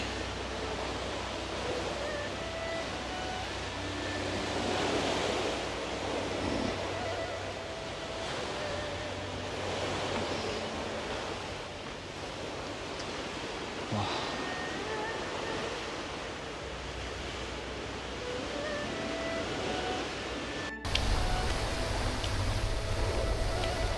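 Ocean waves wash onto the shore at Tanjung Pandan's Turi Beach Resort, a soft, steady surf roar with gentle swells and some wind buffeting the microphone, fairly distant and without talk.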